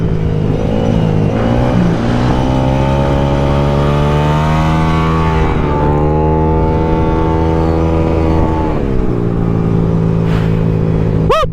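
A Yamaha Aerox 215cc scooter runs on the Carmona race track. Its engine drones loud and close throughout, the pitch rising and falling as it revs and accelerates, with wind rush on top and no talk.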